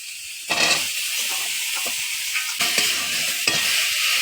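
Cut potatoes with turmeric powder are stirred in a hot pan, giving a steady loud sizzle with scraping stir strokes that swell at a few points.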